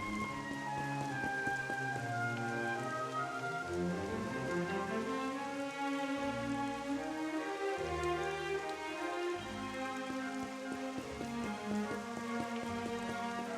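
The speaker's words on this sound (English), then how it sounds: "Still raining." Steady rain patters down continuously beneath a swelling musical score, with no voices, in the video game Dragon Quest XI.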